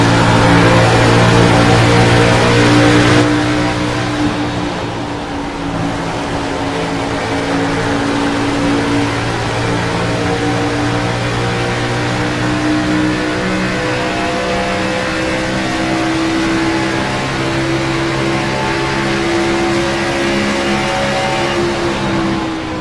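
Stock race cars in an iRacing sim race at Indianapolis Motor Speedway run as a loud, steady engine drone, with several overlapping revving tones that rise and shift as the pack runs two wide into turn one. No commentary is heard.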